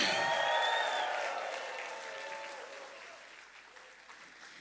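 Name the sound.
congregation applauding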